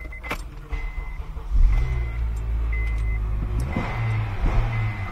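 A 2007 Honda Accord 2.4-litre four-cylinder engine cranks and catches, then settles into a steady close idle, with a couple of short revs near the end and small clicks and jingles around it.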